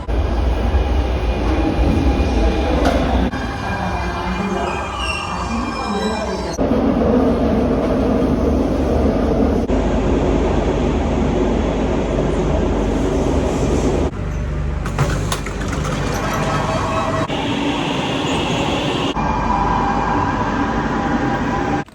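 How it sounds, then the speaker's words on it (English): Loud, constant rumble of a subway train in motion, with rattling, clattering and occasional high metallic squeals from the wheels and cars. "So we're off to catch that train and catch subway"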